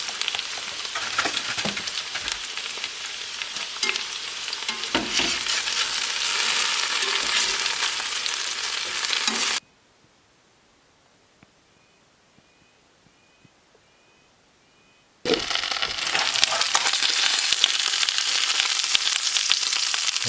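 Potatoes frying in a pan while cooking in a tent give a steady, dense sizzle that cuts to near silence for several seconds midway, then returns just as strongly.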